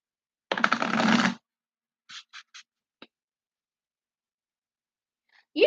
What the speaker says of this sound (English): I'll shuffle these 4 times and we'll pull out 3 cards for you.